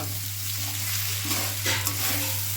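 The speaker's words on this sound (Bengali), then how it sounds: "এবার আমি এটা ভালো করে একটু ভাজা ভাজা করবো" Fish curry ingredients fry in a pan, giving a loud, continuous sizzle with a few spoon-scraping strokes and a steady low hum beneath.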